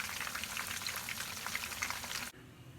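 A whole fish fries in a pan over a medium flame, a dense, close sizzle and crackle of oil that cuts off sharply near the end.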